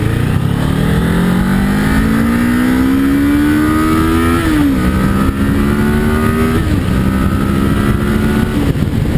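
A 2012 Kawasaki Ninja 650 motorcycle accelerating through the gears, its engine note climbing steadily in pitch, dropping briefly at each shift, then rising again, loud and continuous from a rider's perspective.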